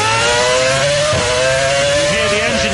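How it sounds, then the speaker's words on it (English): Toyota Formula One car engine at the 2008 Italian Grand Prix at Monza, running without traction control, screams at a high, steady pitch near the limiter with a brief dip, loud and sustained over crowd noise. "You hear the engine just topping out."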